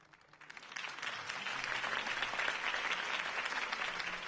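A crowd applauds in the video game Batman: The Telltale Series, the clapping swelling in the first second and then holding at a full, even level throughout.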